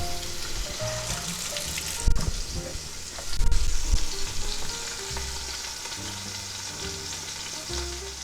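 A beef pot roast sears in an Instant Pot, giving a loud, steady sizzle close by, with stirring or utensil clatter partway through and some kitchen noise in the background.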